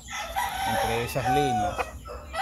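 Roosters on a gamecock breeding farm crow loudly nearby, each long rising-and-falling call mixed with clucking, while people talk in the background.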